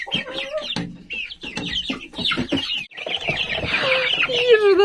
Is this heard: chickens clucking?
yes